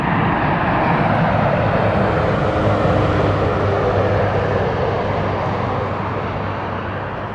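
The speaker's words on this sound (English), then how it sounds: "Beautiful landing." A jet airliner landing on runway 24 at Toronto Pearson Airport, a steady broadband roar of engines and rushing air that holds loud and constant throughout before easing slightly at the end.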